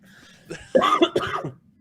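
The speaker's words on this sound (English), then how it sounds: "Cannabis cough." A single harsh, raspy cough bursts out in a couple of rough spasms, close and loud.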